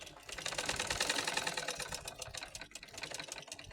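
Sewing machine stitching lace onto a saree, a quiet rapid mechanical chatter that swells and then eases off, with brief pauses between runs of stitches.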